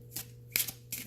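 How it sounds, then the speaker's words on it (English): Tarot cards shuffled by hand, three quick riffling bursts of papery flutter in close succession, near and soft over a low steady hum. "I just shuffle until something falls out or I'm being guided to stop."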